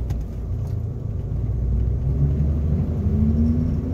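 1964 Corvair driving on the road, a steady low engine rumble with road noise and a rising whir near the end as it pulls through the gears.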